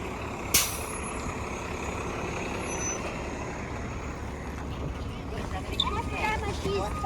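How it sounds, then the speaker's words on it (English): A northbound route 72 city bus in Toronto's Thorncliffe Park rumbles past with a sharp air-brake hiss, engine noise and beeps over steady street traffic, heard from the sidewalk while a person talks nearby. "And there is the northbound 72 bus going to Don Valley Station."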